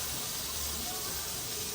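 Steady, close sizzling of meat frying hot in a pan fills the clip, a broad hissing crackle with no pauses.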